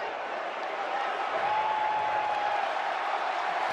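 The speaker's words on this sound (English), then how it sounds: "And now the crowd making some noise once again." At a Clemson versus Notre Dame football game, the stadium crowd roars in a steady, dense wash of noise that carries on throughout with no clear breaks.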